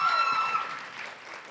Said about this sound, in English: Guys clapping a little too loud for Ypsilanti.